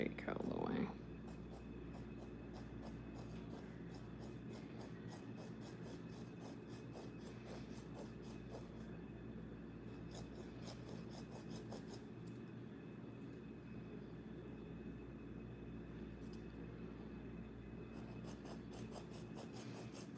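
A nail file rasps against a fingernail in quick, even back-and-forth strokes, soft and close, continuing steadily for the whole stretch beside a faint background hum.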